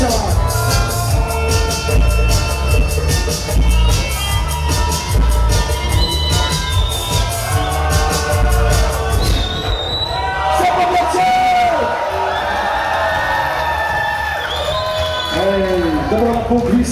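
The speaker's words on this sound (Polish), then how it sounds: "to krzyczycie, dujecie, skaczecie, piszczecie i robicie hałas!" A crowd at the Roots Revival reggae festival in Ostróda, 2009, shouts, screams and makes noise. The roar is loud and dense and dips midway, and an amplified voice rings out above it.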